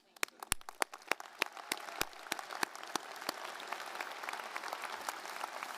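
A crowd at the University of Utah 2025 general commencement claps, starting with a few sharp separate claps that grow into thicker, steadier applause from many people.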